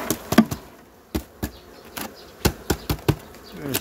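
Honey bees buzz as they are shaken off a hive frame at the division board while a colony is prepared for winter, with a series of sharp knocks and taps over a low background hum.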